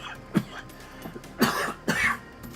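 A person coughs close by in a quiet indoor room, three or four separate coughs spread over a couple of seconds.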